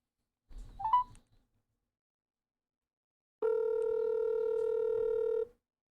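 Telephone dialing beeps, then after a pause a steady dial or ringback tone holds for about two seconds, clear and fairly loud with no talk.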